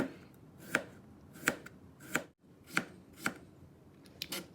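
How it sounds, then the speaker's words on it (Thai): A knife chops through cucumber on a cutting board in a home kitchen, several crisp, evenly spaced cuts landing close by with no voices. "แล้วเราก็จะมาหั่นแตงกวา"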